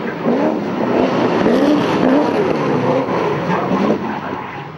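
Drift cars, including a Nissan Skyline R34, slide through a transition at Pukekohe raceway, a loud, sustained engine roar with wavering pitch and tyre noise, steady throughout without talk.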